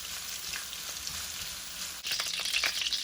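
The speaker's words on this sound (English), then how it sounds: "I'll just fry the meat." Beef for Filipino bistek sizzles in a pan with a faint, steady crackle that grows louder and more spattery partway through.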